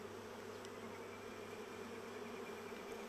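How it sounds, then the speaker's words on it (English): Agitated honeybees buzz at a raised pitch during a brood inspection of an open hive, a dense, steady hum close to the microphone with no voices. "notice the bees have just gotten a little bit cranky about the setup"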